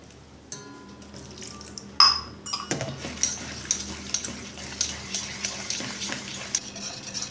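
A spoon stirs gram flour batter with water in a metal bowl for kara boondi, a steady series of close clinks and scrapes against the vessel following a brief clatter, with no talking.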